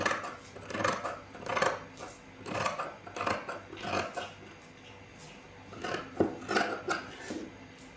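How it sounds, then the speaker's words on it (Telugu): Scissors cutting through blouse fabric along a marked two-inch line, giving repeated crisp snipping and rasping strokes at close range in an irregular rhythm with no talk. "ఇక్కడ కూడా టూ ఇంచెస్ ఉండే విధంగా ఇలా మార్కింగ్ చేసుకొని దీన్ని ఇప్పుడు ఇలా తీసుకోవాలి కటింగ్ అనేది చేసుకోవాలి"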